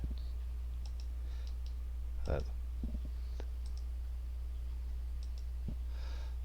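Computer mouse clicking at a desk while working in a graphics selection tool: a few sparse, crisp clicks spread unevenly over a steady low hum, with faint breathy noise and no talk.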